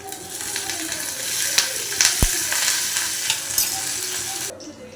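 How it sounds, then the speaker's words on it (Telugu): Gongura papads fry in oil with a continuous, fairly loud hiss and crackle, broken by a few sharp pops and one brief tonal click, before the sound drops away abruptly near the end. "గోంగూర అప్పడాలు బాగా ఫ్రై చేసుకుంటామండి"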